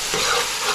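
Catfish curry paste cooks in a pan with a brief, loud, dense sizzle and some stirring scrape, close up and without voices.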